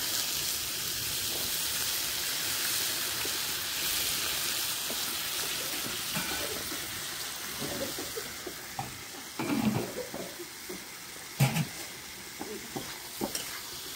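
Tomatoes and spice paste fry in a pan for a tilapia and vegetable curry, giving a steady hissing sizzle that turns into louder, uneven scraping and clatter as the mixture is stirred near the end.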